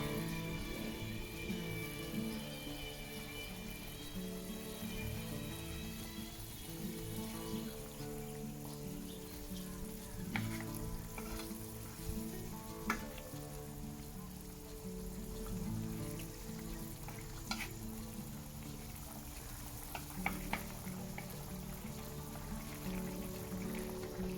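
A pot of Korean soft tofu soup (sundubu-jjigae) bubbles and simmers steadily, with soft popping and gurgling throughout and occasional sharper ticks.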